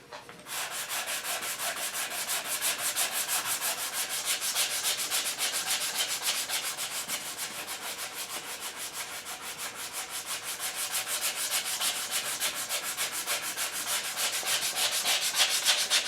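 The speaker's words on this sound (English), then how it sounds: "And then I also use machine belt paper rolled up into tubes for shaping around curves." Sandpaper of 120 grit is rubbed by hand over an English walnut HW80 gunstock, a continuous close scratchy rasp with quick repeating back-and-forth strokes and no talking.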